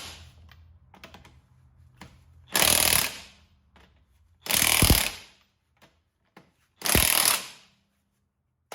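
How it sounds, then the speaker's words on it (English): An impact wrench runs bolts on the brake caliper of a Mercedes ML320, with three loud, close bursts of about a second each, separated by pauses and light clicks of the tool being handled. "You just want your socket to move in your impact until it starts to stop."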